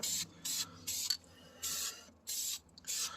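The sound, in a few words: aerosol spray paint primer on brake caliper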